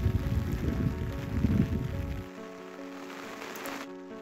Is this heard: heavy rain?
yes